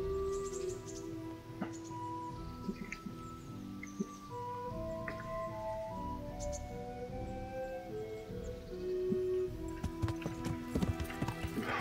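Horse hooves clip-clop at a steady walking rhythm in the medieval game Kingdom Come: Deliverance, with birdsong and ambient game sound around, a brief whinny near the end.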